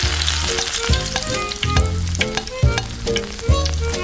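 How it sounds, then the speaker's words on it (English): Onion and ginger frying in an oiled miniature pan give a bright, continuous sizzle, close and fairly loud, punctuated by regular low thumps recurring about every second. "Grease the frying pan with oil and fry the onion and ginger."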